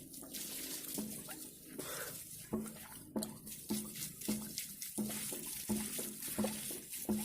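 Manual hand water pump drawing water from a shallow bore well about two metres deep, repeated rhythmic strokes with gushing, splashing water roughly every half to one second, fairly quiet.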